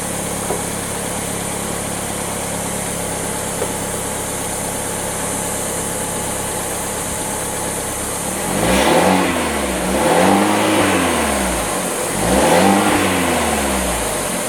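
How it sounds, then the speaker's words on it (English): A Fiat 124 Spider Prima Edizione engine idles steadily, then revs three times in quick succession, each blip rising and falling sharply before settling back to a smooth idle, close and fairly loud. "I'll rev up the engine a little bit."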